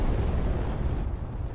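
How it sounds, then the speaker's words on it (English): Explosions in a space battle in the video game Space Engineers, a dense low booming roar that holds loud throughout and thins slightly toward the end, with no voices over it. "Explosions up there at the minute."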